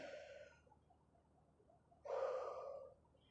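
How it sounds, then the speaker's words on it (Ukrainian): A deep inhale during a gentle morning yoga practice, audible as a short breath at the start and then a louder, fuller intake of air, close and otherwise quiet. "Робимо вдих."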